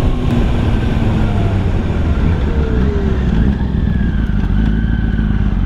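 A Yamaha YZF-R1 RN19 motorcycle accelerates, its engine a loud, close, continuous roar with rising tones over steady road and wind noise.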